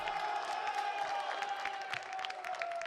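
Small press-conference crowd at UFC 257, McGregor vs Poirier, giving a steady murmur with scattered cheers, whoops and light clapping throughout, moderately loud and continuous.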